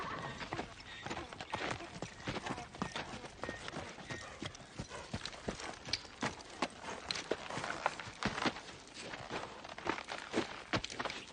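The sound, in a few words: horses walking, hooves clip-clopping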